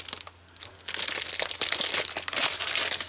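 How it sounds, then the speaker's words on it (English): Papercrafting supplies being taped down, giving close, loud crinkling and crackling tape and paper noises that run almost continuously after a short quiet gap near the start. "Just tape this down."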